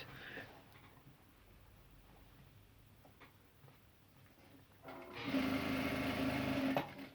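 Sewing machine stitching ess pleat (wave pleat) curtain tape onto a curtain, running slowly with a soft ticking hum at first, then a louder steady whirring burst near the end, with no talk.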